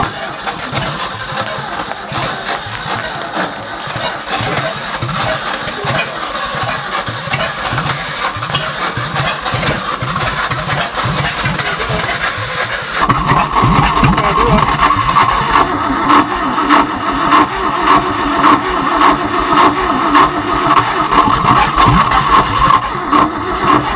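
A long-abandoned Ford F250 cranks over with a rough, labored churn, then catches about halfway through and settles into a louder, steady running engine with a rhythmic pulse, close by, with a few voices in the background.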